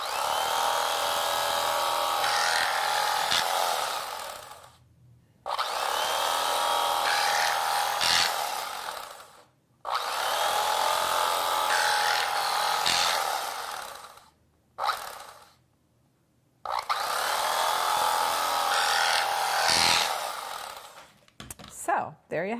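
An electric kitchen knife buzzes steadily while it slices through tomatoes, running in several long stretches separated by brief pauses, close and fairly quiet.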